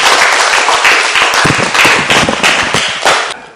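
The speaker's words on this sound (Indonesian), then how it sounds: "Tepuk tangan." Audience applause during an Islamic religious education teaching practice class: loud, dense clapping with scattered sharper hand thumps, sustained for several seconds and fading at the end.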